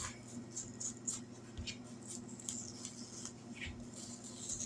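A small serrated steak knife cuts the core out of a tomato, producing soft, close, repeated slicing and scraping sounds over a faint steady background hum.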